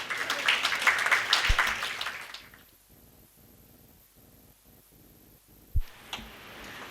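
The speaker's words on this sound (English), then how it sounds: "Give our guest good round of applause." Applause from a conference audience greeting a guest on stage, a dense burst of clapping that tapers off after about two seconds into quiet room tone with a couple of thumps.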